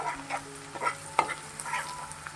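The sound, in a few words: garlic and onion sautéing in butter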